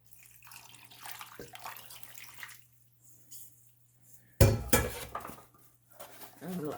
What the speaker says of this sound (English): Let's see how much water we have here. Definitely need a little bit more. Let's pour in some more.